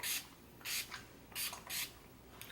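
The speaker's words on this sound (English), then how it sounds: "So I'm just spraying my face with Urban Decay's All Nighter Spray." A bottle of Urban Decay All Nighter setting spray mists onto a face in several short hissing bursts, some quick doubles, close and otherwise quiet.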